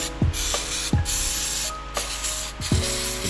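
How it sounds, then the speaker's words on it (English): Brake cleaner sprays from an aerosol can in a garage during an LS1 engine strip-down, several short sharp hissing bursts close up with brief gaps between them. "brake cleaner and throttle body cleaner"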